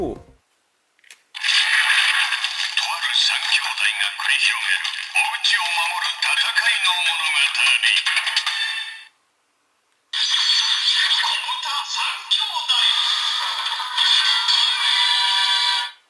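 A Kamen Rider Saber DX Kobuta 3 Kyoudai Wonder Ride Book toy plays loud electronic sound effects and voice lines in two long bursts, separated by a short pause.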